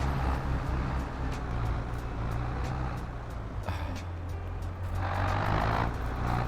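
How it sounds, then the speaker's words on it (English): A Farming Simulator 22 tractor engine rumbles steadily at close range, a low droning motor with grinding mechanical noise and occasional higher hiss bursts. "I thought I was hearing a tractor moving."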